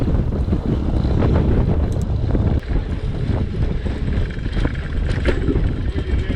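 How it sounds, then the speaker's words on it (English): Strong wind blowing across an open field roars steadily against the microphone, a loud continuous rumble with gusty buffeting throughout and no voices. "it was pretty windy"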